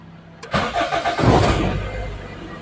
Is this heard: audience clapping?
no